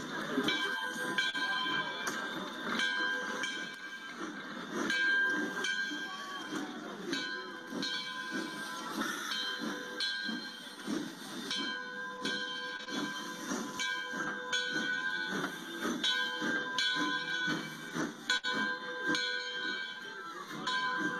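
Short line railroad train running near Arcade in Western New York, a steady rumbling, hissing mechanical din with ringing metallic tones throughout, no voices.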